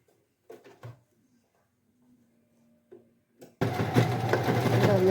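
A sewing machine starts up partway through and runs continuously, stitching a folded baby trouser hem, after a few quiet handling taps and rustles of fabric.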